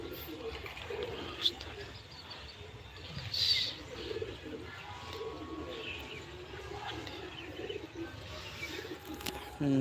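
Pigeons being readied for a tournament coo softly amid scattered bird chirps, with someone talking throughout over steady outdoor background noise.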